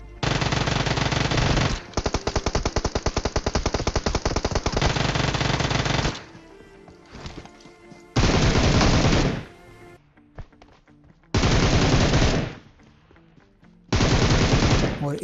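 Video game battle gunfire: long sustained bursts of rapid automatic fire, then several separate loud bursts with short gaps between them, loud and close.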